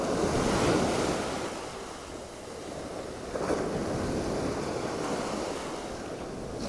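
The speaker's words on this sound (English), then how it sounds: "Conditions are perfect, these little rolling waves or swells." Small rolling waves and swells wash steadily onto a North Norfolk beach at Waxham, with a constant surf roar and gusts of wind buffeting the microphone, no voices.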